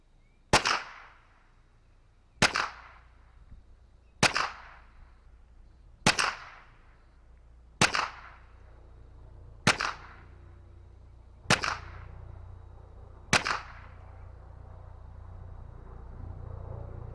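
Eight sharp .22LR shots from a TX22 pistol at 20 yards on 3-inch steel, fired at an even pace about two seconds apart, each a loud crack with a short ringing tail, with no voices.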